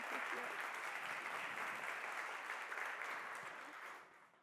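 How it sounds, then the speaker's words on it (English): An audience applauds a speaker and her team at a psychology talk, a dense, steady wash of many hands clapping at moderate volume that holds evenly and fades slightly at the end. "let's make sure Agna gets another round of applause for her and her team."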